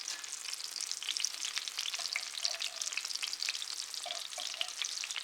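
Grouse tenders sizzle and fry steadily in a pan just after being flipped, a dense, continuous crackle of hot oil with small pops, close and even throughout, with no voices.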